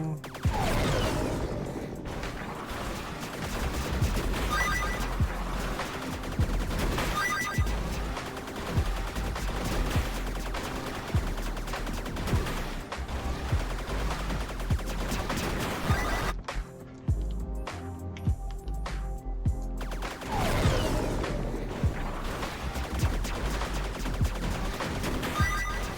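Gunfire from a teapot-themed sci-fi game still in development, with repeated sharp shots over a dense layer of game music and effects, the shots coming in irregular bursts throughout.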